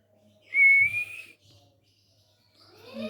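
A pet ringneck parrot whistles on command: one clear rising whistle near the start, then quiet, with faint further chirps toward the end.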